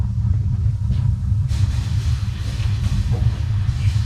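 A household water heater tank fills with a deep, steady low rumble, loud and continuous throughout, with faint hiss above it.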